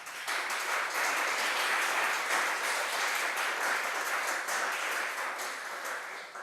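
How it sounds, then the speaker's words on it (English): Audience at a coding bootcamp demo day in Milan applauding, a sustained, even burst of many hands clapping from a moderate distance that tapers slightly at the end. "I would like to have a very big applause for batch under 57."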